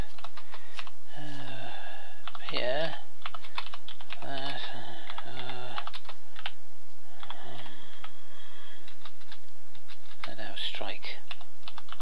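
Computer keyboard typing, a rapid patter of close key clicks running under a voice that talks throughout.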